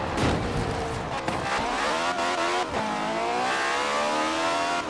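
A Citroen at full throttle in the Forza Horizon 4 racing game, its engine droning loud and steady with rising harmonic pitch, brief dips as gears shift, continuous and close throughout.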